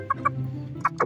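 A backyard chicken clucks close by in two quick pairs of short, sharp clucks separated by a brief pause, with no talking.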